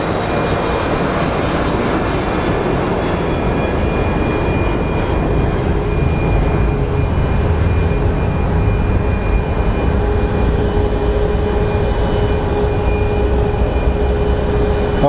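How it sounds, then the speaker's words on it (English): A jet airliner on approach to Phoenix Sky Harbor airport roars steadily and loudly for the whole stretch, its broadband engine rush overlaid by a faint whine, with no voices. "we have Envoy 3835 coming in for a landing"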